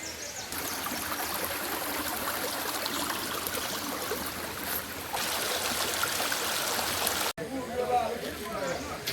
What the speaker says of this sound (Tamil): ஜலகாம்பர் நீர்வீழ்ச்சி ஒரு பார்வை